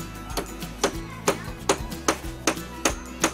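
Hammer tapping while fitting a wooden door hinge: about nine sharp, evenly spaced knocks, close and clear over a low background hum.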